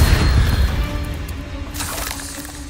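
A Confringo explosive spell goes off in Hogwarts Legacy, a loud booming blast up front that rumbles and fades away over a couple of seconds, with a brief crackling burst of debris near the end.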